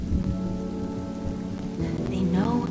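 Steady rain in the video game Honkai Star Rail, a dense close wash of falling drops with a low thunder rumble beneath, under a sustained tonal drone.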